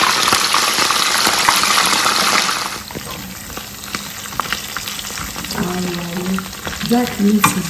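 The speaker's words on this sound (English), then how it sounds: "our oil is ready, so we'll go ahead and fry our meat" Pieces of duck meat fry in hot oil with a loud, steady sizzle that drops to a quieter crackle and bubbling partway through, with occasional stirring clatter near the end.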